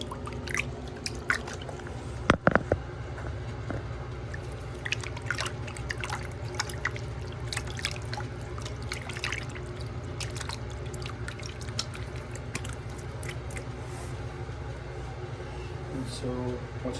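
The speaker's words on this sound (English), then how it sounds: "Go ahead and rinse your hand off." A hand rinsed in a fresh water bucket while working with plaster of Paris, giving close, continuous splashing and dripping with a few sharper sloshes.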